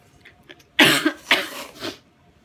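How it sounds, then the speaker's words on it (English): A short burst of close, harsh coughing, three or four rough coughs in quick succession after a brief quiet breath. "I don't know why I'm still coughing."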